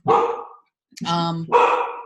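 Dogs barking close by in a home, three loud separate barks with a short pause after the first.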